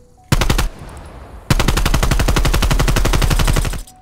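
Call of Duty gunfire played on a PS5 with a DualSense controller: a short burst of automatic fire, a brief gap, then a longer rapid stream of shots, loud and close, with no talk over it.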